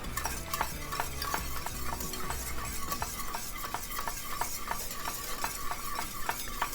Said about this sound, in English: 1 to 2 pads at a time, whisking constantly so that it emulsifies into the sauce instead of forming a buttery slick on top.